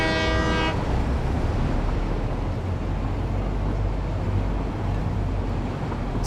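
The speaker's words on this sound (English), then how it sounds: "Yep, there's the other train." A train rumbles past steadily in the factory-building video game Satisfactory, opening with a brief horn blast before a continuous loud rolling roar fills the rest of the passage.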